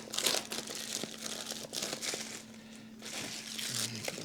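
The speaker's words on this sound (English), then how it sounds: "let's get the razor blade out and open this box up" A razor blade cuts open a cardboard box of earbuds, making quiet close-up scraping, crinkling and slicing sounds in short bursts.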